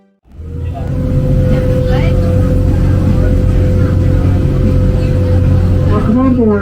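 Universal resort shuttle boat running from Sapphire Falls to City Walk: a loud, steady engine drone starts up after a moment's silence and holds throughout, with faint voices and chatter underneath.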